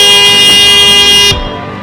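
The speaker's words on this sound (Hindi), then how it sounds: "ये हॉर्न दे रही है।" A loud, sustained car horn blares for over a second, then cuts off, leaving a rumbling low background.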